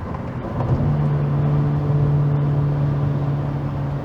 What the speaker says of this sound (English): now we're going to do some downshifting, see how the engine braking feels